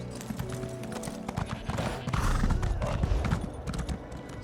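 Hooves clip-clop rapidly as a horse is ridden through a desert in the video game Elder Scrolls Online, close and continuous, with a brief whinny amid the galloping.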